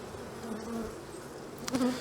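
Honeybees hum and buzz close by in a soft, steady drone inside an open hive during a spring inspection, with a brief louder buzz near the end as one passes near.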